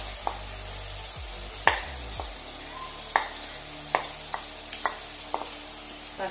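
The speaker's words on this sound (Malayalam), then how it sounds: "പെട്ടെന്ന് വഴന്ന് വരാൻ വേണ്ടിയിട്ട് ഞാൻ ഇതിലേക്ക് കുറച്ച് ഉപ്പ് ചേർക്കുന്നുണ്ട്" Ingredients are sautéed with salt in a pan for an egg chana masala snack: a soft steady sizzle broken by sharp, irregular scrapes and clinks of stirring, close and with no talking.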